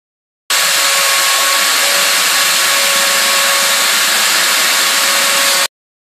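A steady, loud power-tool whine from sanding metal pieces, with a constant tone, runs without a break for about five seconds, then cuts off abruptly.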